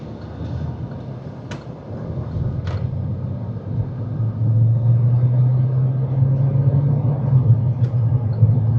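A car with a 180,000-mile transmission accelerates in hot weather, a low engine and road rumble that builds and deepens as the gears change, heard from inside the cabin with faint clicks and no talking.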